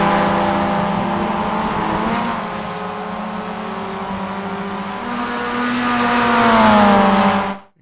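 Mazda MX5 racing at Oulton Park in iRacing drops a gear under braking: a loud, close engine note falls in pitch, then climbs and holds steady through the corner before cutting off abruptly.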